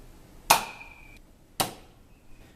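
A Nerf N-Strike Elite Triad dart blaster fires twice from its bottom barrel, each shot a sharp, close snap with a brief ringing tail, about a second apart, with no other sound around them.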